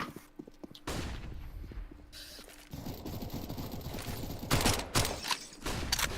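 SMG gunfire in a Counter-Strike style match breaks out in rapid clattering bursts, ragged and mechanical, growing louder and denser toward the end with no voices over it.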